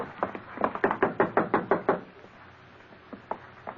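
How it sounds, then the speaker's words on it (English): In an old radio drama, knuckles rap on a door in a quick run of about nine close, hollow knocks, then two more spaced knocks after a short pause. No voices. "Then I'll do the knocking."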